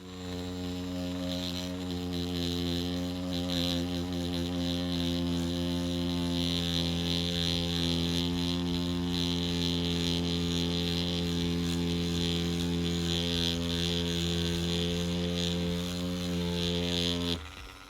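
A wireless tiny pin tattoo machine runs continuously with a steady electric buzz and hum, holding an even pitch and level from start to finish with no voices.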